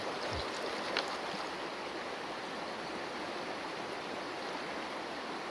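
Water rushes steadily and fairly loudly through a gold sluice, a constant broadband flowing noise with no pauses.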